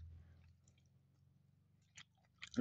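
Quiet, close chewing of breakfast food, soft squishy mouth sounds under a low hum, ending in a louder burst of movement.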